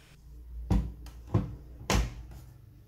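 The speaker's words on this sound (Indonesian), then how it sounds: "kita tutup pintu mesin cucinya hingga rapat sampai bunyi terkunci ya." A Midea front-loading washing machine door is pushed shut and latched, giving three separate dull thumps spaced about half a second apart, close and fairly loud in a quiet room.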